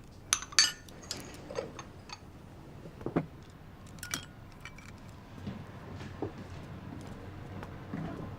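Bowls and chopsticks clink at a home meal, with scattered light taps and a few sharper clatters over a quiet room and no talking.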